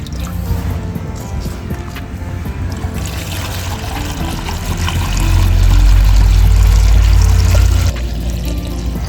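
Water and liquid phosphoric acid fertilizer pouring into a sprayer tank, a steady splashing trickle that deepens into a heavier, louder gushing rush midway before easing back, with no talking.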